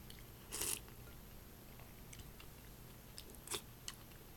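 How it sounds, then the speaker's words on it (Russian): Crunchy bites of food on camera while eating, two sharp crunches standing out over a quiet room hiss, with faint chewing clicks in between and no talking. "Я даже специально какие-то звуки делаю при еде."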